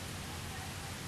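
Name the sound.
rain falling outdoors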